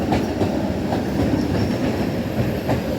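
Russian commuter train rolling along the rails, a steady loud rumble with faint rhythmic clatter of wheels over joints, continuous and close throughout with no voices.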